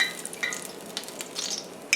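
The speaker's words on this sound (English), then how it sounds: "I'm going to finish frying up the rest of my eggplant" Eggplant slices sizzling softly in hot oil in a home kitchen, a faint steady crackle with light clinks of utensils and pans, no talk.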